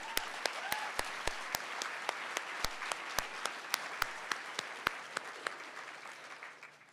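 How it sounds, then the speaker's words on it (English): A crowd applauds at a university nursing pinning ceremony, a broad wash of clapping punctuated by sharp, evenly spaced individual claps close by, gradually fading out near the end. "another round of applause."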